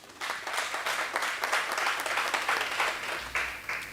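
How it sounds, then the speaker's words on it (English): A student parliament audience claps together in a steady, dense round of applause that carries on for a few seconds at moderate distance. "Can you clap hands for that?"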